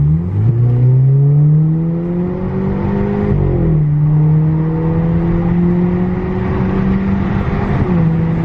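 An Audi A4 with a Stage 1 Integrated Engineering tune on 93 octane revs loudly up close, the engine note climbing, dropping and climbing again in sustained pulls with no talking.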